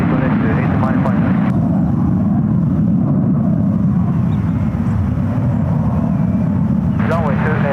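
A Boeing 777-300ER airliner on final approach to runway 28 at San Francisco airport makes a loud, sustained broadband jet roar that fills the whole stretch, steady and close, with faint radio chatter at the edges.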